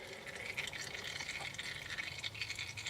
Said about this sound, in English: you can see it's draining out a lot more oil